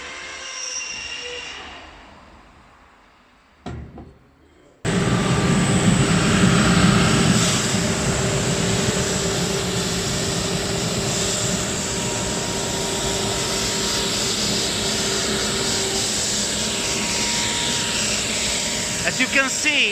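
A Rustica wire brushing machine fitted with two very hard steel brush heads roughens timber for fencing and shiplap siding; after a quieter start, a loud continuous industrial roar and grinding kicks in and runs steadily to the end.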